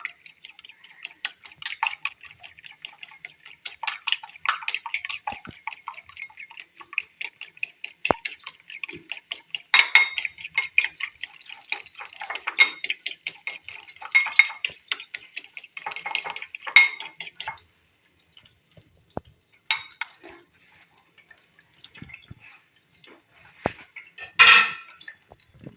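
A utensil beating a dal kebab mixture with salt in a bowl, a fast, rhythmic clinking and scraping against the bowl that stops and restarts, close and fairly bright, no talking.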